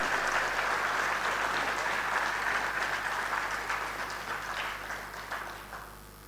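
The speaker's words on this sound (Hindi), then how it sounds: "एक बार पूरे दिल से जोरदार तालियां बजा करके" Audience applause at a company's first-anniversary event in Patna, a dense sustained crowd of clapping that holds steady and then slowly fades toward the end, moderately near with no talk.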